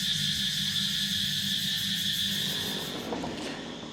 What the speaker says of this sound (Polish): cykady rozpoczynają swój poranny koncert